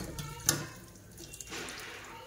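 Water runs from a kitchen tap while pabda fish are being washed, a steady soft splashing with a brief clatter and drips, fairly close and quiet.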